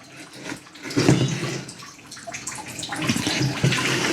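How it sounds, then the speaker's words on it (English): Water running from a kitchen tap during bread making, a steady rushing splash that swells slightly, with faint clatter mixed in and no voices. "I forgot to turn off the water."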